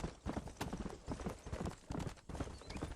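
Horse hooves clip-clopping in Red Dead Redemption, a steady rhythmic trot at moderate distance with faint ambient game sound underneath.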